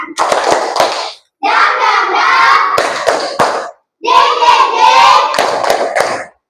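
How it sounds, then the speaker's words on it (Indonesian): A group performs a rhythmic spirit clap: loud, close bursts of patterned clapping and chanted syllables in three distinct phrases separated by brief silences. "Yuk sekali lagi tepuk semangat biar semangat yuk"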